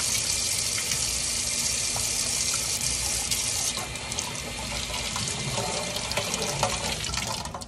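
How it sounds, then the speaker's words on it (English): Steady rush of tap water splashing into a sink, with shifting splashes as hands move under the stream; no talking. "we are going to wash our hands with soap and warm water"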